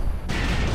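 Combat mech in MechWarrior Online unleashes all its weapons at once: a sudden dense loud blast of booming gunfire that erupts after a brief muffled lead-in and sustains as a wall of noise.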